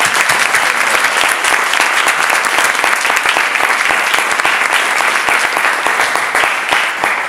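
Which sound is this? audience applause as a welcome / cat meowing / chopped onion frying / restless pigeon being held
audience applause as a welcome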